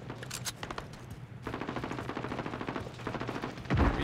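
Rapid bursts of automatic gunfire from Call of Duty: Modern Warfare, with short volleys at the start, then a sustained stream of rattling shots through the middle and a heavier low thump near the end, loud and close.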